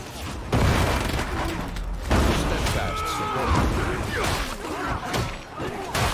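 A grenade explodes in Warhammer 40K: Darktide amid gunfire, with several loud crashing booms and thuds spread across a few seconds of chaotic combat noise.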